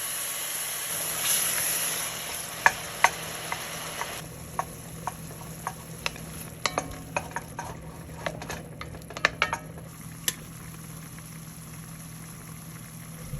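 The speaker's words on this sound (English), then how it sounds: "I'll add in 1/3 of the tomatoes for some acidity." Chana dal sizzles in a pan as tomatoes are added, with a soft, steady frying hiss broken by scattered sharp crackles and pops, close and moderately quiet, with no voices.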